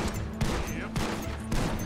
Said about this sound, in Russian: Я случайно выстрелил!